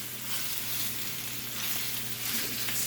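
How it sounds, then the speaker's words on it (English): Sausage fries in a pan for an Italian dish, a close, continuous hiss and crackle with faint stirring, steady throughout and without voices. "right now we're frying away or cooking down our sausage"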